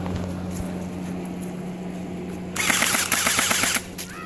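Airsoft guns firing during an outdoor skirmish, a rapid burst of sharp clattering shots lasting about a second over a steady background hum, close and loud.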